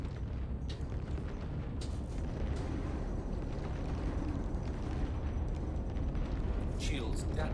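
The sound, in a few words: weapons firing in the video game Star Citizen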